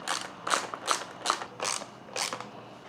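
Screws come out of the tail light on a 2023 Suzuki GSX-R1000R with a series of quiet ratcheting clicks, about six short bursts in an uneven rhythm, close up in a quiet room.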